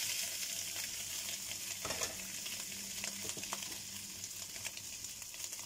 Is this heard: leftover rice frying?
yes